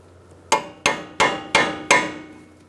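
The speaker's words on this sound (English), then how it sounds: "Make sure you ping down your nut in that groove. You can use a cold chisel" Five sharp, evenly spaced metal hammer blows on a cold chisel, staking an axle nut into its groove on a 2002-2006 Honda CR-V during a lower control arm replacement, each strike ringing briefly; close and clear with no talk.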